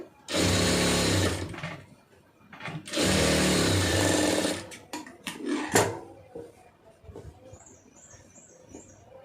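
A sewing machine stitches a blouse shoulder seam in two loud, close bursts of rapid whirring, followed by clicks, handling knocks and faint rustling of fabric once the motor stops.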